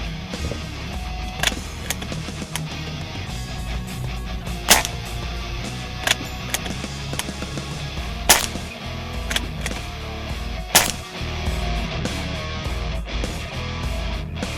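A Crosman 850 Air Magnum CO2 air gun fires a series of sharp, dry cracks at irregular intervals outdoors, each shot a crisp pop over a continuous low background rumble.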